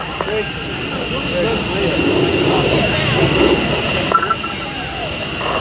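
Vintage jet aircraft, a type known from the Suez invasion, flying at a Dayton air show: a loud, steady engine roar fills the scene, mixed with crowd and public-address noise.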